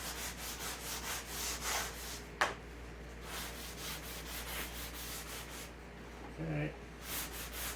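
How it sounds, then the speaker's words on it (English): Small sanding block rubbed back and forth over wood in a steady rhythm of close, soft scratchy strokes, with a brief knock partway through and a short spoken word near the end. "after I hit it with this little sanding block"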